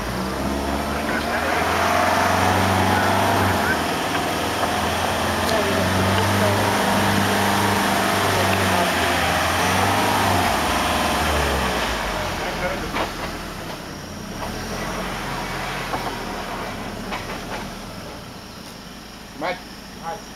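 A vehicle's engine drives steadily in second gear through a river crossing, a continuous low rumble and drone, loud and close, easing off in the last few seconds, with voices talking over it.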